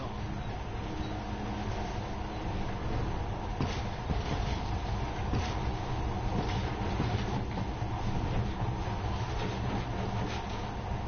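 Monorail train running in the video game Metro Redux: a steady, continuous rolling rumble with faint rhythmic rail clatter, sustained and even throughout.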